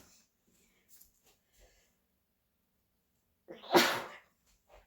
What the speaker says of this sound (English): I am sneezing into my sleeve, which is how you want to sneeze.